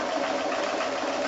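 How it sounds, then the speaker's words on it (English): A sewing machine stitches back and forth across quilting fabric in a steady, close mechanical whir with no pauses or talking. "I'm going to sew over it and I'm going to sew back again"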